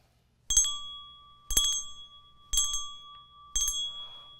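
Four bright bell rings, evenly spaced about a second apart, each chiming out and decaying before the next, at a children's Christmas Bible class with no talking.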